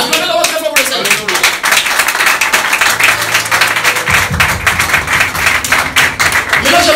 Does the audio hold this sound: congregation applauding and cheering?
yes